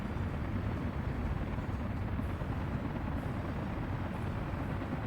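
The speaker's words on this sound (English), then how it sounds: "We've got a whole bunch of helicopters here that are picking up stuff as we speak." Helicopters lifting cargo in the Soviet-era city-building game Workers and Resources: Soviet Republic, a steady, loud low rotor rumble with broadband wash that holds constant throughout, with no talk over it.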